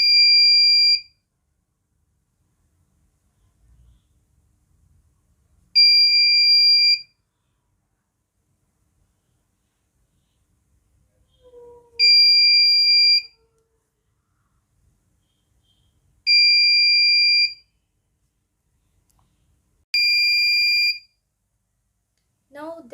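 A PIR motion sensor alarm in a small electronics project, sounding five loud, piercing electronic beep bursts about a second long, separated by silences of several seconds, with a faint short tone between them.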